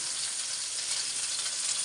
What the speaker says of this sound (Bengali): এর জন্য ভেন্ডিটা একটু ভাইজে নিতে আসি যাতে তরকারিটা পিছলা পিছলা না হয়